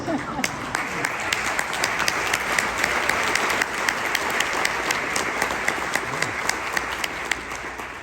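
An audience of Eagle Scouts at a speaking event breaks into steady, dense applause, many hands clapping at once in a continuous, fairly loud wash across the whole stretch.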